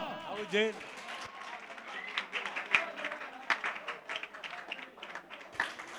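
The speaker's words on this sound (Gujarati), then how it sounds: "સરસ તાળીઓથી વધાવશો" Audience at a village award ceremony honouring bright students claps in scattered, uneven bursts, moderately close, mixed with people speaking throughout.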